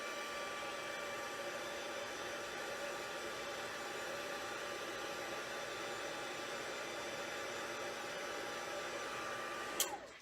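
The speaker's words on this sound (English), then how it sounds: "Let me just bring in my heat tool just to heat this up." Electric heat tool blowing hot air to dry wet Wink of Stella shimmer on a handmade Stampin' Up! card, a steady, even whoosh lasting throughout, close and fairly loud, cutting off abruptly at the end.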